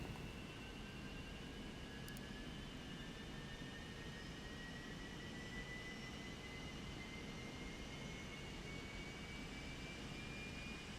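Engine of a Cessna Citation Mustang business jet spooling up in a flight simulator, a steady broad roar with a thin rising whine climbing slowly in pitch throughout, faint and continuous.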